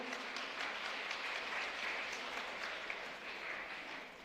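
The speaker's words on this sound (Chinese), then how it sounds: "来，欢迎你，拍手欢迎。" Soft, distant applause from a church congregation during a Sunday worship service, welcoming a visiting sister with steady clapping that lasts about four seconds and fades slightly at the end.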